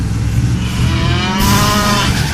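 A cow moos loudly in a Command & Conquer video game, one sustained bovine call with no talk over it.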